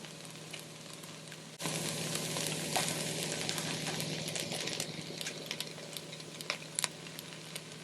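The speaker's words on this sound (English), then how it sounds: "Add in more water so we can finish water sauteing." Carrots and peppers water-sautéing in a pan with no oil. A sudden loud hiss starts as water hits the hot pan, then a steady close sizzle continues with scattered pops and clicks.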